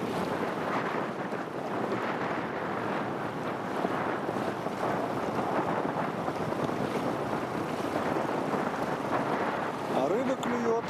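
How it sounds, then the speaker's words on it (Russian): A strong east wind blows over rippling water on a fishing outing, producing a continuous, loud rushing buffet against the microphone with no pauses. "Дует сильный восточный ветер, прям такой конкретно восточный."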